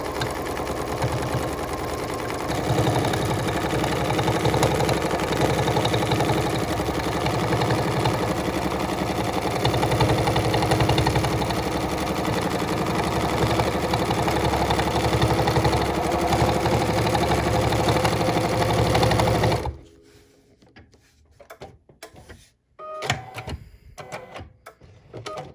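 A Bernina sewing machine fitted with the adjustable micro-stippling foot #73 stitches veining on fabric butterfly wings, a steady loud whirring hum running unbroken for about twenty seconds before stopping abruptly, followed by a few faint handling sounds.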